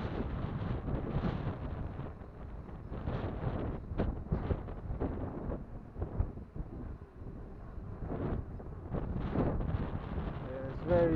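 Strong wind buffets the microphone outdoors during a drone's first flight, a continuous loud low rumble with gusty swells and bursts throughout, no clear voices standing out.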